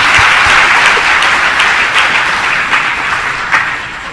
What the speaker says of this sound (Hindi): जोर से ताली एक बार